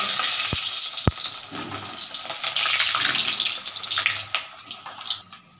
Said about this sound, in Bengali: এবার আমি যে আলুগুলো রেখেছিলাম ডুমো ডুমো করে কাটা, এই আলুগুলো আমি একটা একটা করে দিয়ে দেবো।